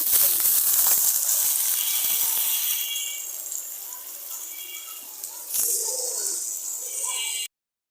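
Prawns sizzle in a frying pan for a kalmi greens curry, a steady bright hiss that is loudest at the start, then eases to a softer crackle with a few small pops near the end.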